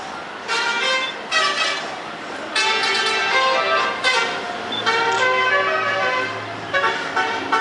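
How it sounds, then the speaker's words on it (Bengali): Car horns honk repeatedly on a mountain road near Baglihar Dam between Patnitop and Pahalgam, with loud bursts of varying length from nearby vehicles over a low engine rumble. "এইসব কি আমাদের গাড়ির হর্ন?"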